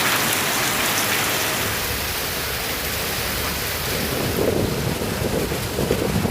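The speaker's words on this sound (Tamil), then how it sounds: "வாலாஜாபேட்டை, காவேரிப்பாக்கம், திமிரி உள்ளிட்ட இடங்களில் பலத்த காற்றுடன் கனமழை பெய்தது." Heavy rain driven by strong wind in Walajapet, Kaveripakkam and Timiri, Tamil Nadu: a dense, loud, continuous roar of falling rain and gusting wind buffeting the microphone, with no voices.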